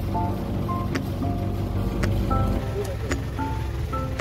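A shikara boat moves along the Alappuzha backwaters with a continuous wash of water and motor noise, and faint voices drift in the background.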